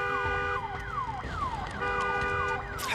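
A car alarm in the video game Days Gone wails nonstop, its pitch sweeping downward again and again in a fast repeating cycle, loud and close with no talking.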